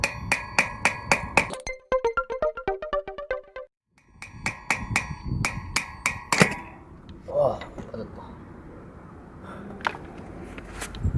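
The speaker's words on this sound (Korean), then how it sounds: "망치로 살살살 쳐가지고" A hammer gently taps to drive out the freewheel of a Strida folding bicycle, giving sharp metallic knocks: single strikes, then quick rapid bursts, then more spaced taps. Faint handling noises fill the gaps.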